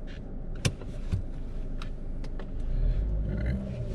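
A Chevy Sonic economy car pulls away from inside the cabin, with a steady low engine rumble that swells slightly as it gets moving. A few sharp interior clicks and thumps sound near the start, with no talking.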